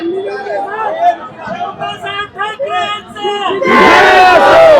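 Shiv Sainik supporters crowd at Uddhav Thackeray's branch visit, rhythmic chanted slogans from many voices giving way to a loud, dense burst of cheering close by.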